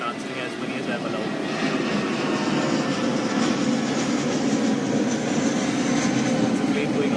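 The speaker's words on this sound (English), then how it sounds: "It's a plane going above my head" An airplane passing overhead during an outdoor live session, a steady broad roaring drone that swells slightly and stays loud throughout, with a voice faintly beneath it.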